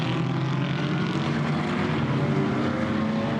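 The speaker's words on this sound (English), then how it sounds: "You can suddenly hear the engine notes starting to drop" Race car engines in a GT4 European Series race at Misano drone steadily as the field slows behind the safety car, a continuous loud hum with a slowly falling pitch and no talk over it.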